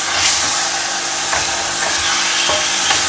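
Chicken pieces coated in masala are stirred in a pressure cooker for a Kerala chicken curry, a loud steady sizzle with soft scraping strokes at a slow, regular pace.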